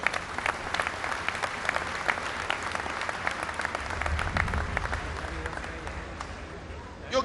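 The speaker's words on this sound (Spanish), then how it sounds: "Felicidades y un fuerte aplauso también para todos ustedes." A crowd of power plant workers at a thermoelectric complex in Mexico applauds, fairly distant steady clapping with some louder individual claps, fading toward the end as talk begins.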